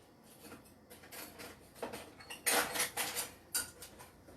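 Kitchen utensils rattle and clink as measuring spoons are hunted for among them, starting quiet and building to several sharp metallic jangles near the middle and end, with no talking.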